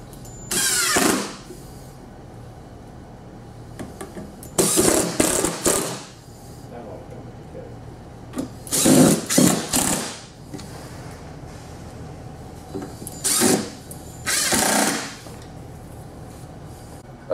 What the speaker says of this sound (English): Using the Euro screws that come with the kit, we're going to just install the rail